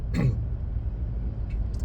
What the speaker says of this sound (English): So I'm clearing my throat.